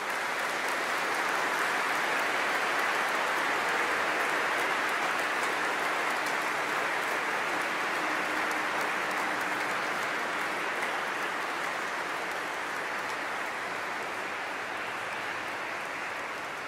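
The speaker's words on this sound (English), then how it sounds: "Boys, could you please give them a big round of applause?" School boys at Patrician Brothers' College Fairfield's 70th anniversary Mass in St Mary's Cathedral give a big round of applause, a dense, steady roar of many hands like heavy rain that holds for the whole stretch and eases slightly at the end.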